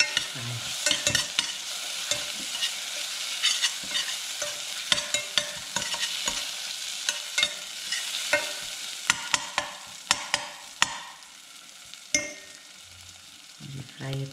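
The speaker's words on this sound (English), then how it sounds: "And let this fry." Continuous sizzle of crushed ginger frying in a pan, with repeated scraping and clacking of a utensil stirring it.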